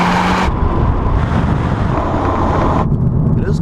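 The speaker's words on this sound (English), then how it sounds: "It is quite noisy in here at 100 kilometers an hour." Cabin noise inside a 2018 Honda Civic Type R at 100 km/h, a loud constant roar of road and engine rumble with wind rush filling the interior.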